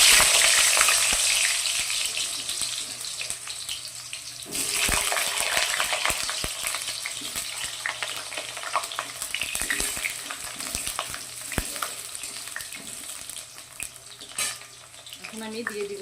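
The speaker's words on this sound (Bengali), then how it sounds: "তেল গরম হয়ে গেছে, এখন আমি আলুগুলোকে দিয়ে দিচ্ছি।" Potatoes frying in hot oil for a mutton curry, a steady close sizzle with occasional stirring clinks and scrapes of the pan, heard alone.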